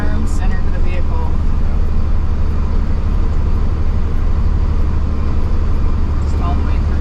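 Off-road vehicle driving over flat ground with mud pits, a loud continuous engine and road rumble close up, with a voice talking over it.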